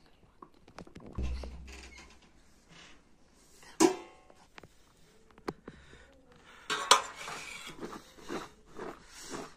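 Ingredients going into a large cooking pot, scattered clanks, knocks and rattles of metal cookware with quieter shuffling between them, close by.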